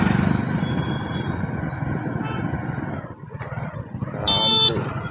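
Dense traffic noise from a queue of tractors, motorbikes and other vehicles at a Mahashivratri fair in Kamraud, with engines rumbling steadily up close and a brief horn toot near the end.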